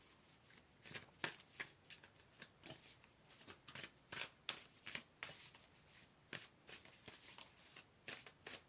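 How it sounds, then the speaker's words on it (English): Tarot cards being shuffled and drawn, a steady series of crisp riffling bursts and soft slaps repeating about once a second, close and quiet with no talking. "Let's pull another card."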